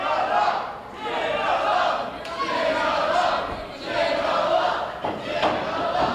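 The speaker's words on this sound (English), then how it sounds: "We got the little kids at ringside cheering Jiggal-o" Young children at ringside at an indie wrestling show cheering a wrestler, a loud crowd roar that swells and dips in waves, with shouting voices and an occasional thud mixed in.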